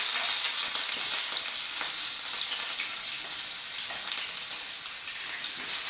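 Shallots frying in hot oil after mustard seeds have popped, giving a loud, continuous bright sizzle with faint crackles scattered through it.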